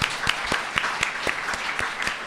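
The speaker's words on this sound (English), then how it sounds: "Please give him a round of applause." Audience applause at a children's illustration celebration event, a small crowd clapping in a steady, moderately loud patter of distinct claps throughout, with no voices.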